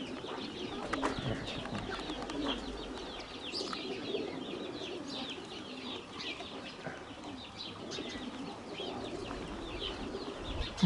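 Flock of Vladimir fighting pigeons flying over a house outdoors, with scattered wing flaps, soft coos and other bird calls at a moderate distance over faint background noise.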